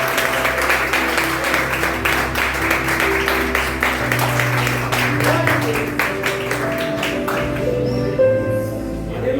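A church congregation claps together during a service, sustained applause over music and a voice that carry on beneath it, tapering off near the end.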